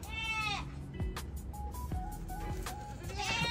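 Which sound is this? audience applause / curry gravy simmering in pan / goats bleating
goats bleating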